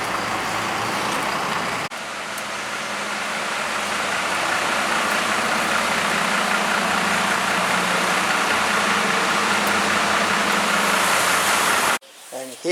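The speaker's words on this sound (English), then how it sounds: "And here I am at the bus station. This big place over here." A large bus station in the rain fills with a dense, steady wash of idling engines and traffic rumble, loud and close, cut off abruptly near the end, with a voice talking briefly.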